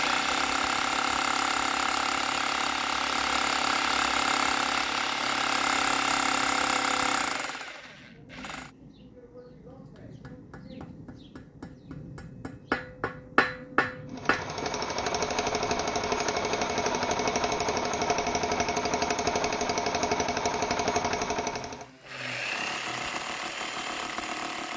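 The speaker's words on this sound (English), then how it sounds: "I would use a bigger hammer drill to get through the concrete post." A hammer drill grinds into a concrete fence post in rapid, rattling bursts, loud and close, with short pauses between runs and a steady mechanical roar.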